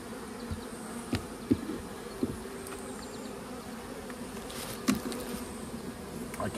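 Honey bees buzzing at an open hive during an early colony inspection, a continuous close drone with a few louder passes from bees flying near.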